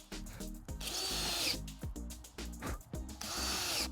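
A power drill drives screws into scrap wood for a garden bench, whirring in repeated short bursts that rise and stop, each run separated by brief pauses, loud and near.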